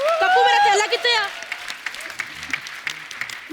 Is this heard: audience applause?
yes